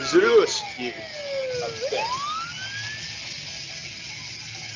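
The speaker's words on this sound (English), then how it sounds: "Ambulance." An ambulance siren wails in a gliding sweep that falls then rises through traffic, heard under people talking and reacting.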